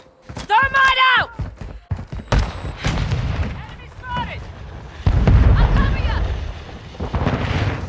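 A thermite grenade going off in Modern Warfare 2 gameplay, heavy booming bursts and crackling fire mixed with other gunfire and game effects, with voices speaking over the action.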